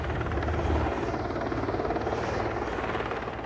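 A helicopter flies overhead during a sea rescue, its loud rotor chop pulsing steadily and close before starting to fade slightly at the end, with no talking.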